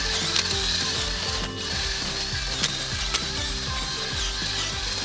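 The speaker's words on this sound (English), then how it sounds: "We love our auger." A garden auger churns into soil with a rapid, rattling mechanical ratchet, a continuous close and loud grinding clatter with repeated clicks over several seconds.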